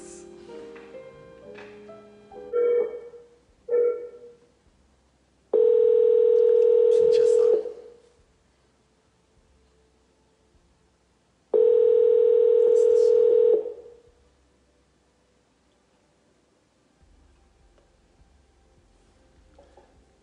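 Placing a telephone call: a few short dialing tones, then two long, loud ringback tones separated by quiet gaps, heard close and clear with no talking over them.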